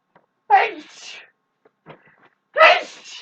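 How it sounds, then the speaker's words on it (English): A person sneezes twice, each a sudden close burst separated by a quiet gap with a faint breath or sniff between, indoors with no other talk. "I think that's the third time I've ever sneezed"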